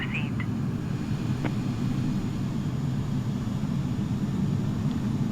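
Airliner engine number 2 spooling up in Microsoft Flight Simulator 2020 after pushback, a steady low rumbling roar with a faint rising whine early on, continuous and unbroken.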